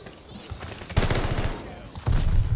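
Automaton assault rifle fired in Call of Duty: Vanguard, with two loud bursts of rapid shots, the second one the heavier, set over a low background hum.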